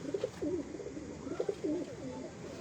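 Jonsare breeder pigeons at a loft in Faisalabad coo in repeated soft, throaty rolls, several bursts one after another, close by against a faint background hum.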